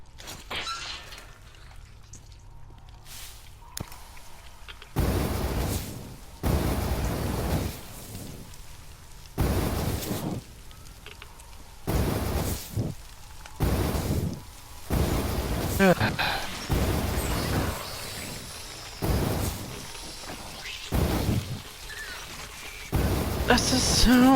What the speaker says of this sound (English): That's the sound of the men burning all the slime.